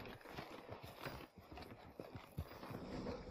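Horse hooves clip-clop steadily while riding in Red Dead Redemption 2, a quiet, even trot at moderate distance over a faint background, with no talking.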